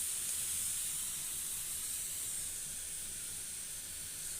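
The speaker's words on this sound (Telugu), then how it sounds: "ఇక్కడ పాలు అయితే మరుగుతున్నాయి" Milk boils in a pot on a home kitchen stove, giving a steady, close, even hiss that holds at the same level for the whole stretch, with no voices over it.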